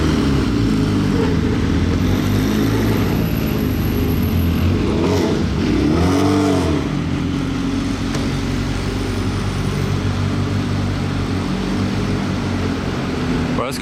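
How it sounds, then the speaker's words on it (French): Unregistered rally cars from the 2022 Monte-Carlo Rally, including an Alpine, drive through ordinary road traffic. A steady engine rumble continues throughout, and one car sweeps past close by midway. "les voitures de rallye qui roulent sur la route, normale, dans le trafic, sans plaque d'immatriculation"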